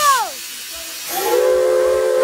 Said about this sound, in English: blow the steam whistle